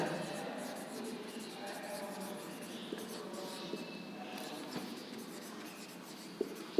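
A pen or pencil scratches continuously on paper, fairly soft and close, with a few small taps scattered through the steady writing.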